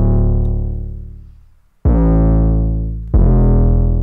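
Three loud, gritty 808 bass notes distorted with Logic's stock overdrive plugin boom one after another, each sustaining and slowly decaying, alone without any voices.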